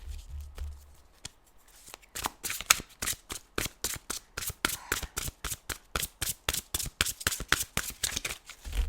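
A deck of tarot cards is riffled and shuffled by hand in quick, regular bursts of crisp flapping that repeat steadily at close range in a quiet room.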